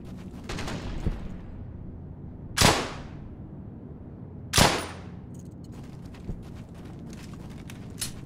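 Gunfire in the WWII shooter Brothers in Arms: Hell's Highway: sharp loud shots, two prominent bursts a couple of seconds apart plus scattered lighter reports over a steady battlefield background rumble.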